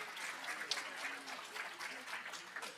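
Audience applause at a school district athletic hall of fame induction ceremony, steady dense clapping throughout at even loudness, slightly distant in a hall.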